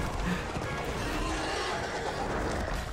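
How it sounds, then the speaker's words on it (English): A cartoon horse neighs and whinnies over a steady background, with hoof clip-clops mixed in and faint talk underneath. "Freaking hell horse."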